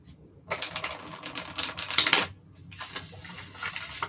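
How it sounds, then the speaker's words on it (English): Crisp rapid riffling of tarot cards being shuffled, a couple of seconds of flicking, a brief pause, then another softer run of shuffling. "Oh, that was a good shuffle."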